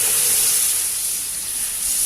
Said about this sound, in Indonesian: sekarang kita tuangkan sari dengan gula